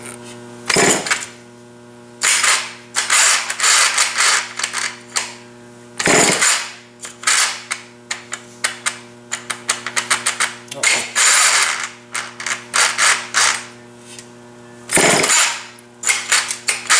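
Repeated pull-start attempts on a Homelite chainsaw that will not fire from cold, each sharp ratcheting pull separated by short gaps, with a steady background hum throughout.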